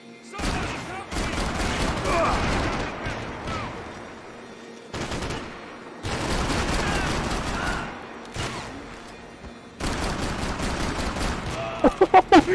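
Rapid bursts of automatic gunfire in Max Payne 3, loud and close, coming in dense volleys separated by short silences, with a quick string of sharp single shots at the end.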